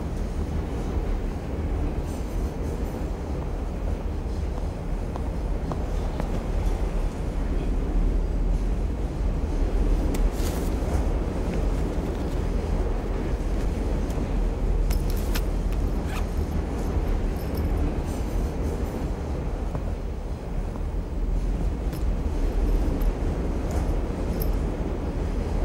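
A moving train gives a steady, continuous rumble and rattle throughout, loud and even, with faint higher clicks now and then and no voices.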